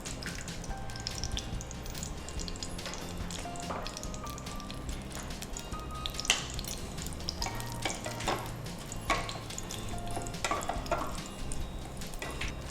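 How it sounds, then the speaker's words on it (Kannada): Cinnamon sticks and cloves go into hot oil for a tempering for tomato bath, giving a steady close sizzle with frequent scraping and stirring clinks throughout and no voices. "ಸೊ ಈ ಚಕ್ಕೆ, ಲವಂಗ ಇದೆಲ್ಲವನ್ನು ಹಾಕ್ಲಿಕ್ಕಿದೆ."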